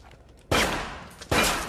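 Two loud, close gunshot blasts from the video game Infamous Second Son, each a sharp broadband crack with a decaying tail, spaced under a second apart over quiet ambience.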